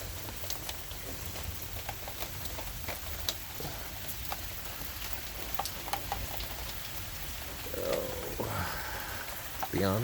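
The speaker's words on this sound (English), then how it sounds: "rain calmed down a little bit." Light rain after a thunderstorm, a soft continuous patter punctuated by distinct individual drips tapping nearby, with a short bout of handling noise toward the end.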